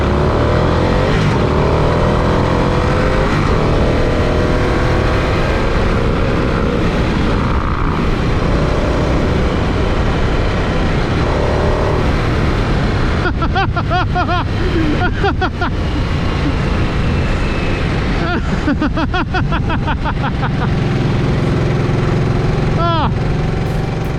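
A 2023 Harley-Davidson Nightster Special on a test ride, its engine droning loud and steady, rising and falling with throttle, with rushing wind noise and short rapid engine pulses toward the end.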